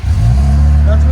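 An Infiniti Q60 with a 3.0-litre twin-turbo V6 and aftermarket exhaust fires up on a cold start, a loud, deep exhaust roar that surges at once and holds steady close by.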